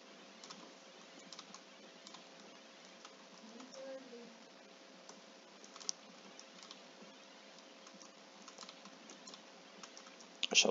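Computer keyboard keys, including backspace, are tapped during a game session, producing soft, faint clicks scattered irregularly over a low steady hum, with a slightly louder tap near the end.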